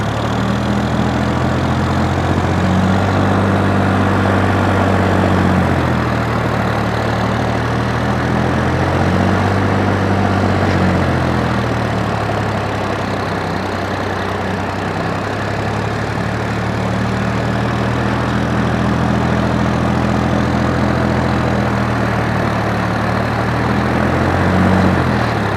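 A Sonalika DI-55III tractor engine idles at 600 RPM, a loud, steady diesel rumble with a slow rhythmic throb that swells and eases every few seconds, with no voices over it.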